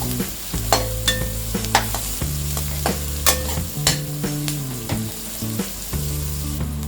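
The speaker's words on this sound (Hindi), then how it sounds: "अनियंस को हम सॉफ्ट होने तक फ्राई करेंगे।" Onions frying in a pan while Paneer Kolhapuri is being cooked, a steady close sizzle broken by repeated clinks and scrapes of a spoon stirring against the metal.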